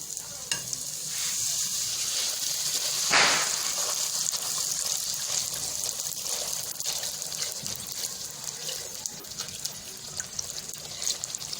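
Golgappa pani puri shapes fry in hot oil with a loud, continuous close sizzle and bubbling, and a brief splashy burst early on.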